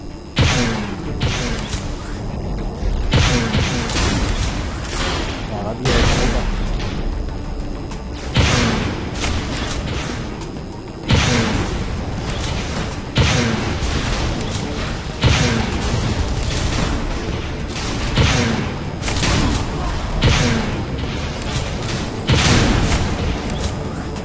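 Spinfusor disc launcher in the video game Tribes: Ascend fires rapidly, with repeated loud booming explosions, thuds and whooshes in a dense, continuous stream of battle noise.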